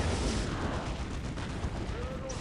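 Artillery platform firing in the Dawn of War Unification strategy game, a dense continuous rumble of booming shots and crackling battle noise throughout, with no clear gaps between blasts.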